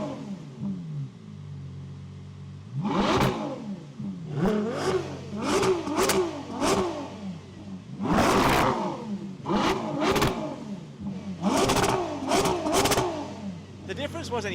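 A Ferrari Purosangue with a naturally aspirated 6.5-liter V12 is revved in repeated short blips, each rising sharply and falling away, loud and fairly close, with a steady idle between them.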